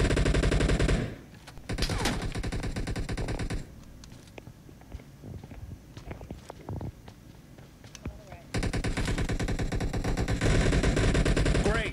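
Automatic gunfire in a multiplayer team deathmatch shooter game, loud dense bursts of rapid shots at the start and again toward the end, with scattered quieter shots and clatter in between.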